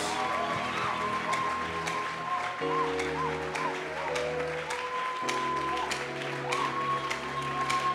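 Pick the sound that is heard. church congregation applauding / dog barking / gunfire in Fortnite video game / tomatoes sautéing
church congregation applauding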